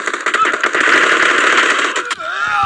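Rapid automatic gunfire in PUBG Mobile, a loud close burst of fast repeated shots lasting about two seconds before cutting off to a short tail.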